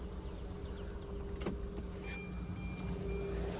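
A Maruti 800 car hums steadily close by as it is switched off, a low engine drone with a faint click partway through and no voices.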